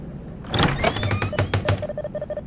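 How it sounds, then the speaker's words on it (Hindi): A door is opened in a horror-story sound effect, with a heavy thunk followed by a creaking, scraping sweep and a series of rhythmic knocks, close and clear with no speech over it. "जैसे ही दिया ने दरवाजा खोला"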